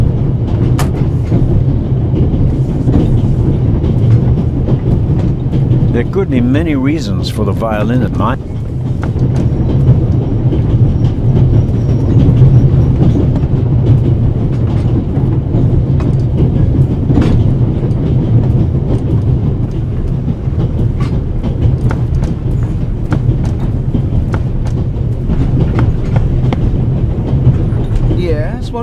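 Steady rumble and rhythmic clatter of a moving train carriage in the game The Raven Remastered, loud and continuous beneath passengers talking.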